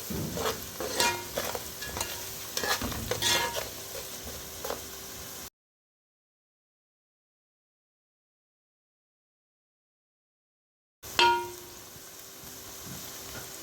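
Turmeric powder going into chicken feet curry in a pan brings a soft sizzle with a few light stirring scrapes, then a stretch of dead silence before the quiet frying returns.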